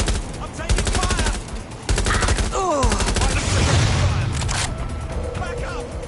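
Automatic gunfire in Watch Dogs Legion: several rapid rattling bursts separated by short pauses, loud and close, mixed with in-game voices and a sharp crack.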